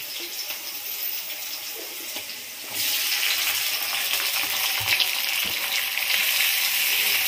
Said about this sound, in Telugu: టమాటాలు వేస్తున్నానండి.